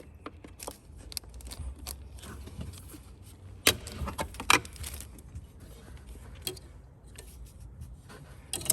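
A plastic clip being pried off the intake manifold of a Ford Ranger 3.2 diesel engine: a series of faint, scattered clicks and ticks, with a couple of sharper snaps around the middle, close by and quiet.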